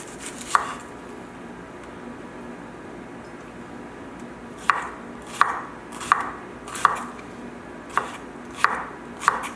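A knife chops onion on a cutting board in sharp, distinct thuds: one early cut, a pause, then a run of about seven evenly spaced chops over a faint background hiss.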